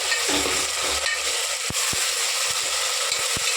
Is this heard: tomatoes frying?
yes